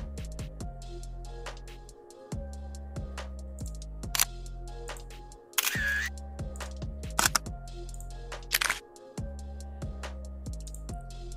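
A camera shutter sound effect previewed in video editing software: a few sharp mechanical clicks that stand out above a low, steady background bed.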